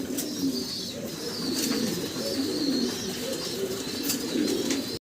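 A pair of pigeons, a hen and a cock, coo steadily at close range on a farm, soft rolling calls with faint chirps above them and no talking.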